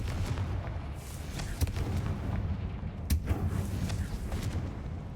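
In the Hogwarts Legacy video game, the Confringo blasting spell goes off in sharp explosive cracks and booms, a few distinct hits over a constant rumble, fairly faint overall, with no talking.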